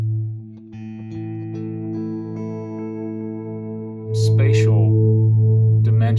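Electric guitar through a Morley pedal with stereo plate reverb, sustained chords ringing out with a smooth lingering tail, then a louder strummed chord swelling in near the end.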